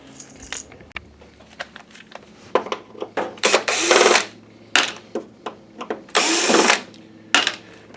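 A power screwdriver backs screws out of an old Christie LX66 LCD projector, a series of short loud whirring bursts separated by clicks and small metallic clatters, close by with no talk.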